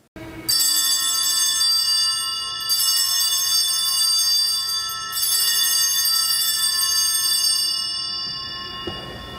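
Small bells ring out with bright, sustained tones, struck three times in a row, each chime lingering and slowly fading.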